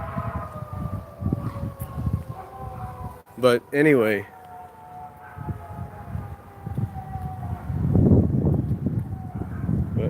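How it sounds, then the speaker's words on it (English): A siren sounds outside, faint and wavering behind someone talking over it, with a brief louder rising tone in the middle; talk continues throughout. "There's a siren going on and all that."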